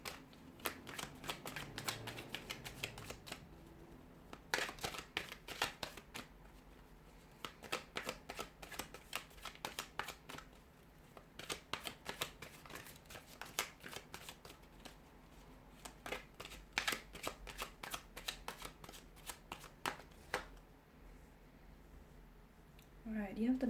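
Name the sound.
tarot cards being shuffled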